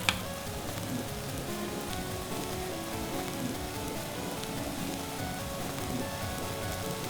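Homemade corn tortillas frying in a hot pan, giving a steady, even sizzle and crackle that runs the whole time at moderate loudness, with no talking over it.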